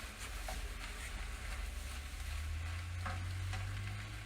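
Mushrooms fry in a pan with a steady, soft sizzle, broken by a couple of scraping stirs from a utensil, with no talking.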